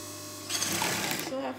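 A sewing machine stitches the curved V of a sweetheart neckline on an A-line dress, its motor starting after a short pause and running in a steady, fairly quiet whir for about a second.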